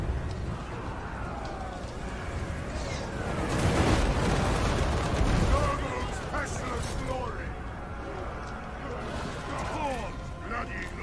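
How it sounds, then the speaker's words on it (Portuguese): Mortar fire lands during a Total War: Warhammer 2 battle, a broad rumbling blast swelling in the middle amid ongoing game noise, with a voice talking over it. "Já estamos tomando tiro de morteiro, tem dois morteiros atirando"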